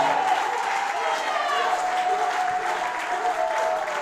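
A church congregation applauds steadily through a service, a dense continuous clapping with a preacher's voice ringing over it.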